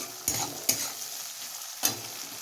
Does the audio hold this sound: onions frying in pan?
yes